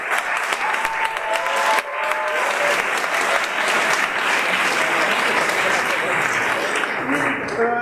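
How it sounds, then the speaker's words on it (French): An audience applauds a firefighter at a school festival show, dense sustained clapping filling the room at steady loudness with some voices mixed in beneath it. "On applaudit monsieur le pompier."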